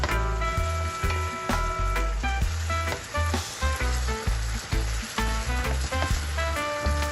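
Tomatoes sauté in a pan for a Jamaican steamed fish dish, giving a continuous sizzle and frying crackle with occasional stirring clatter throughout.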